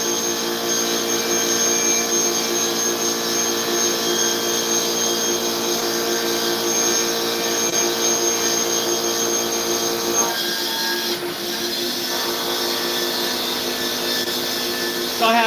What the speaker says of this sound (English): I'm making parts for my DIY CNC lathe build.